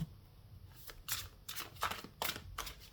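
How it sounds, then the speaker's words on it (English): Large tarot cards being shuffled by hand in a quiet room, a series of short papery riffling bursts in irregular rhythm, close and fairly soft, with no talking. "One more shuffle."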